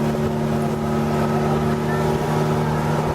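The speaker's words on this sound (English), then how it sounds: "the captain is running the boat a little slower" Steady drone of a pontoon boat engine running at low speed, with a constant wash of water noise underneath, close and continuous, at sea between Cebu and Samar Island.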